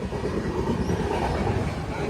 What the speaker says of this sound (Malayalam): ട്രെയിൻ അകത്തോട്ട് കയറ്റുന്നു. വരുന്നുണ്ട്.